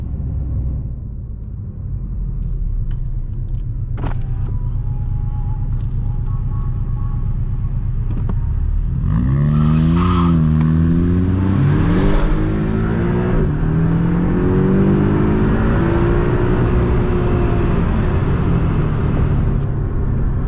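A 2018 Porsche 718 Boxster Roadster accelerating hard from inside the cabin, its engine note rising loudly in pitch, then dropping with each gear shift and climbing again, under a steady rumble of road noise.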